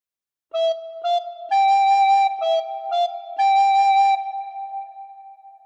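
Short recorder phrase from the nursery tune Frère Jacques, played as a series of clear, breathy whistled notes in a steady rhythm, with the final note held and fading.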